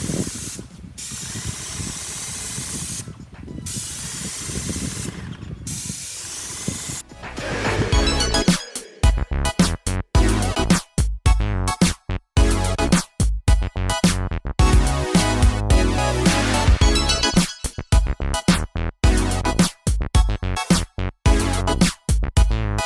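A paint sprayer hisses as masonry paint is sprayed onto decorative exterior mouldings, first a soft steady hiss, then a louder stretch of repeated short sprayed bursts with mechanical clicks between them, close and continuous.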